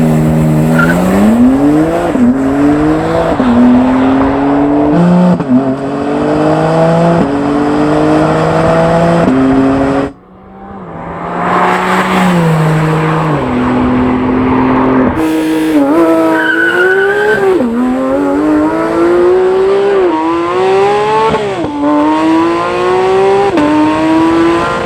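Loud sports car engines, a Porsche GT3 and BMW M4 CSL, rev and roar as they accelerate through gears, pitch climbing and dropping repeatedly, with a brief dip before the roaring resumes.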